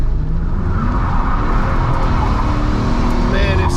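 A 2002 Pontiac Trans Am WS6 with traction control off roars loudly and close while spinning a donut, its engine held at high, sustained revs with a voice briefly over it.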